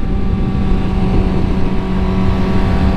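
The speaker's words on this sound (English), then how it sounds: "you just twist that throttle on these bikes and it's just like," A motorcycle engine roars loud and close with a continuous, steady drone as the throttle is twisted, holding at a high, unbroken pitch with no voices over it.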